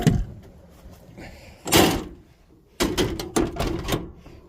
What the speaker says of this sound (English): yes, that's a steel door on a wood bin